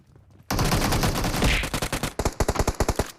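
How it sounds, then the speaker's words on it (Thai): Sustained automatic gunfire in the PUBG Mobile battle royale game, starting abruptly as a loud dense burst and breaking into rapid distinct shots toward the end, with no talk over it. "โอ้เพื่อนเราก็ยิงกันไม่หยุดอีกแล้ว"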